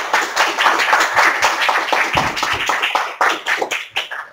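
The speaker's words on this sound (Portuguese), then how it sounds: "de uma salva de palmas" Dense applause from a lecture audience welcoming a speaker, steady and energetic, with many overlapping hand claps throughout, thinning slightly toward the end.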